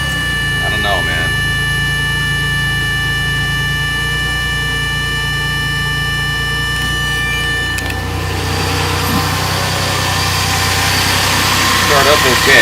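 A 1981 early-VIN DeLorean with an automatic transmission and 4,300 miles on it idles with a steady, close mid-pitched engine hum that shifts and grows louder partway through, while people talk over it.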